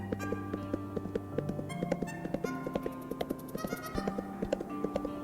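Horse hooves clip-clop in the Undertale Yellow video game, a rhythmic series of crisp hollow taps over a soft chiptune-like musical backing, steady and close.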